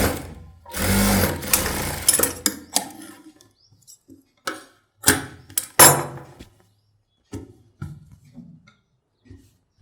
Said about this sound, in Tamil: இப்போ நான் தைச்சிட்டு காமிக்கிறேன் பாருங்கள்